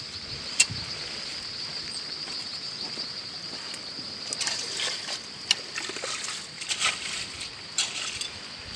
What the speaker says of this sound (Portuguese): Aí a água desce de cima e fica aqui no rio.